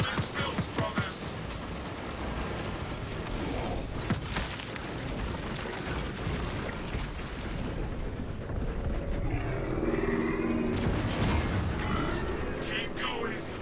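Sidearm gunfire in a Space Marine video game, a long stretch of rapid, crackling shots mixed with heavy booms and mechanical clatter, with voices speaking over the battle.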